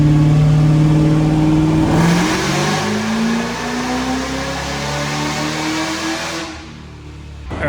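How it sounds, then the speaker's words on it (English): A tuned Camaro engine revving out to redline: a loud, close rising whine that climbs, dips briefly, climbs again through a long pull, then cuts off sharply near the end. "This is the first time the thing's getting revved out to redline."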